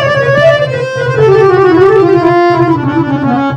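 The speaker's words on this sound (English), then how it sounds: "A narnar harmonium is one wherein both the lines are male, so both the lines are male, so it is narnar harmonium." Narnar harmonium with both reed lines tuned male, playing a continuous reedy melody with sustained drone-like chords underneath, loud and close throughout, with no talking.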